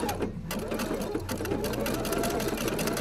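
A sewing machine runs steadily for the whole stretch, zigzag stitching over an edge with a buttonhole foot while making a face mask, its motor hum and rapid needle clatter close and continuous.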